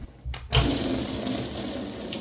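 A water tap at public facilities on a walking trip along the Devon border is turned on after a brief knock, then gushes steadily and loudly while a bottle fills.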